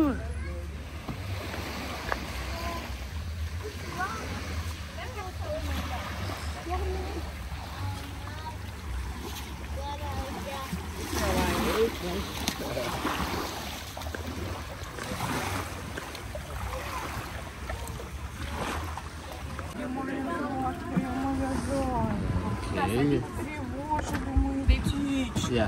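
A boat speeds across the water with a constant rushing roar of engine and spray, faint voices now and then beneath it.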